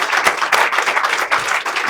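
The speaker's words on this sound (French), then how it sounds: "Ça mérite des applaudissements." An audience breaks into applause, dense overlapping hand clapping for a couple of seconds, steady and fairly close, with no speech over it.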